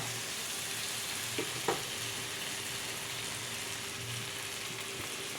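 Roasted semolina (rava) is stirred into a frying pan for upma, an even, continuous sizzle with a couple of brief scraping taps from the spoon, at moderate loudness and without speech.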